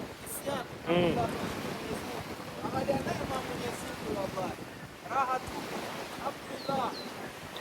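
Wind and surf rush steadily along a seashore, with wind buffeting the microphone and a constant broadband wash while several people talk and exclaim over it throughout.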